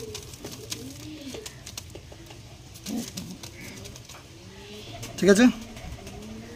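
Pigeons, Punjabi Malbai birds at a sale, cooing softly in the background, while someone talks over them throughout and a louder flutter or clatter comes near the end.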